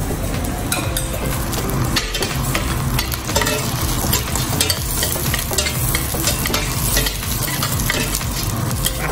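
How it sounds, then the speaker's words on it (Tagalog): Onions sauté in a hot pan while being stirred briskly, a loud dense sizzle with repeated scraping and clinking of utensil on metal throughout, close and continuous. "Ayan, igisa na natin yung sibuyas."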